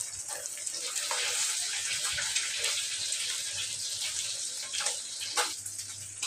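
Onions frying in oil in a home kitchen give a steady, close hiss and sizzle with scattered crackles and pops throughout, with no voices.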